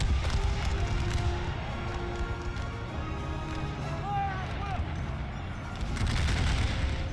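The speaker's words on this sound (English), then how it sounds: "They're about to be shot at." Civil War battle game with dense distant musket volleys crackling throughout, layered with a low rumble of troops and a voice talking over the fire.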